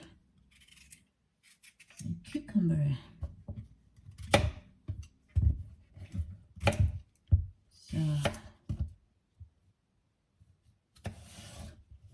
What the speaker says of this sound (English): And then finally, I'm chopping the cucumber.